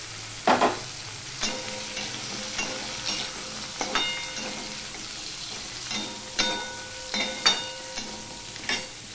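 Potatoes frying in a pan with onion and a bay leaf give a continuous sizzle, punctuated by repeated sharp metallic clinks and scrapes of a spatula at irregular intervals.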